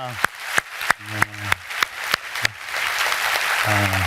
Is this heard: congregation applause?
yes